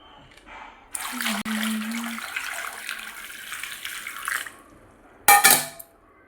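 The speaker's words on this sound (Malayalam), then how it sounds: "ആവശ്യത്തിന് വെള്ളം കൂടി നമുക്ക് ഒഴിച്ചു കൊടുക്കാം" Water pours steadily into a clay pot of chopped tapioca for about three seconds, a close, full rushing stream that then stops, followed by a brief bright clatter of the vessel.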